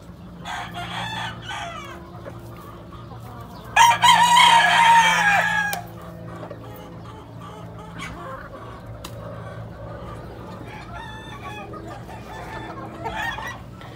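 A rooster crows loudly for about two seconds amid steady background noise, with scattered soft clucks from chickens before and after.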